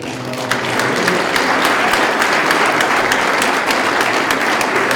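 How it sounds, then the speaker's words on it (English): Sustained audience applause for the panelists at a utilities economics discussion, a dense steady clatter of many hands clapping that swells in after a brief lead-in and holds loud throughout. "What I'd like to do again is to ask for another round of applause for our panelists."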